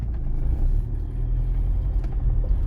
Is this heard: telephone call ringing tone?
no